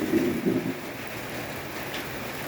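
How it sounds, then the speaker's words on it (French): Rain pours in a steady shower during a small thunderstorm outside a house, a dense even patter, with a low rumble of thunder at the start fading under the constant rainfall. "C'est la deuxième fois qu'il mouille comme ça aujourd'hui."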